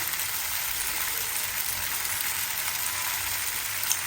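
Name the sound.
green chilies sizzling as they are added to the frying pan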